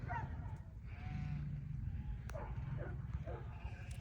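Several sheep bleat in short, wavering cries over a low rumbling background, some closer and some farther off.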